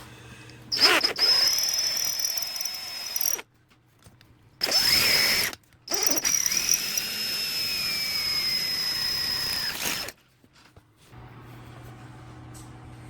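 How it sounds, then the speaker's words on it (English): A power drill bores out the internal cross member of a Husqvarna 55 chainsaw muffler, whining loudly in three separate bursts of a few seconds each with short quiet gaps between them. "so we're just going to drill it out"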